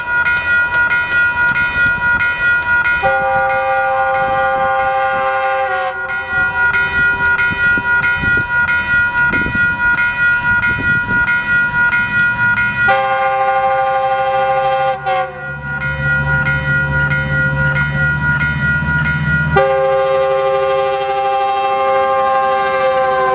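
Metrolink passenger train led by F125 locomotive 925 passing close by, its horn sounding in long sustained chords several times over a steady rumble of wheels and engine.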